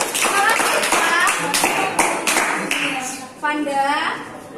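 A class of children applauds during a school dance teaching session, several rounds of brisk clapping, close and lively, under a teacher's voice and children's chatter.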